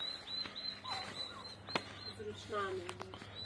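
Small turkey poults let out to roam in a pen call with faint, thin chirping peeps scattered through a steady background hum, with a few sharper calls near the end.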